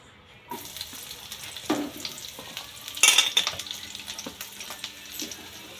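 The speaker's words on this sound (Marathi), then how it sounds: "कढईमध्ये तेल टाकलेले आहे 2 चमचे। आता याच्यामध्ये आपण हे भाजून घेणार आहे।" Home-ground spices fry in two spoons of hot oil in a wok, giving a steady sizzle with stirring scrapes. A louder crackling burst rises partway through. No one speaks.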